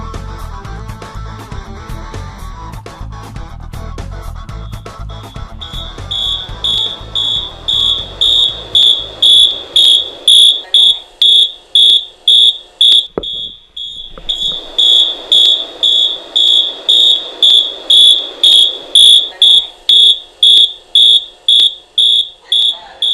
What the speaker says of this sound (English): Here's an example of our local fire alarm.